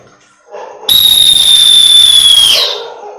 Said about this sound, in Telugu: సో లాంగ్ విజిల్ ఇలా అంటే